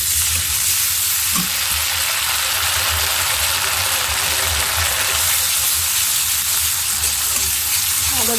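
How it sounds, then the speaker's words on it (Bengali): Onion frying with ginger-garlic paste in a kadai, a continuous loud sizzle and crackle with occasional scraping from stirring, close and unbroken. "আদা রসুনটা কিছুক্ষণ ভেজে নিচ্ছি।"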